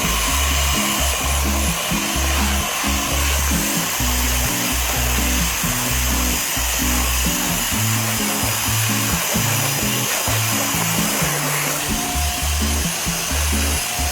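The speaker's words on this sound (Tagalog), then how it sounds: "itong vacuum nga pala na ginagamit ko ngayon mga mare is pinadala lang yan sa atin from Tix Appliances" A vacuum cleaner from Tix Appliances runs continuously while cleaning a floor, a loud steady motor whine and airflow roar with an uneven low thumping, close and without talk.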